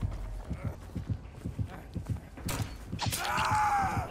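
Steady galloping horse hoofbeats thud in a quick rhythm in Dead by Daylight, followed by a sharp crash and a rising whoosh of game sound effects.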